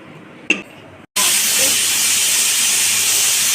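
Pressure cooker on the stove with chole peas, bay leaf, cinnamon, pepper, cloves, salt and turmeric: a brief click, then a sudden loud continuous steam hiss that holds steady, close up.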